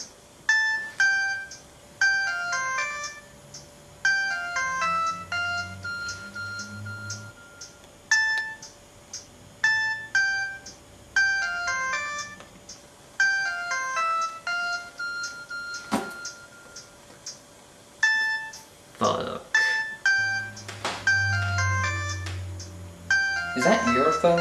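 A mobile phone ringtone plays a repeating pattern of short melodic electronic beeps, cycling steadily for over twenty seconds, with occasional low voices and thumps underneath.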